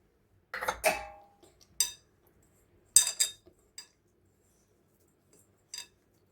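A spoon scraping and clinking against a metal vessel while Dharwad peda mixture is stirred with cardamom powder, a few sharp separate clinks spaced out with quiet gaps.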